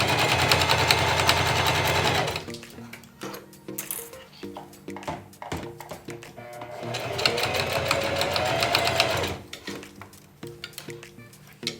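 A sewing machine stitches thin fabric into a sweatband, running in fast, loud whirring bursts separated by quieter stretches of slow, clicking stitches, close to the listener.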